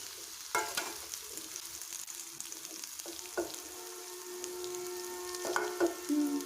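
Parboiled potatoes frying in a pan, a low steady sizzle punctuated by several sharp spatula scrapes and knocks, close and fairly quiet with faint background music.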